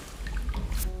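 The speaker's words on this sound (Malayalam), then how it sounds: "ഇനി നമുക്ക് ഈ മിക്സ് ഇതിലോട്ട് ഒഴിച്ചു കൊടുക്കാം" Blended butter chicken masala mix, made with Kashmiri chilli, pours into a preheated pan with a soft, wet dribbling and dripping, faint and close, with no talk.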